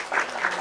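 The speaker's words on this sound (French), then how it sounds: "Il faut les applaudir." Audience applause at a gathering, a short burst of dense clapping that swells and holds at moderate loudness.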